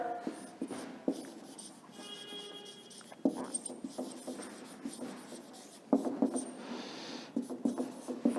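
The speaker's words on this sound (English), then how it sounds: "Let me write the keyword." A teacher writes a keyword on a board during a classroom social studies lesson: steady, scratchy strokes in irregular bursts and taps, fairly close and clear, with no talking over them.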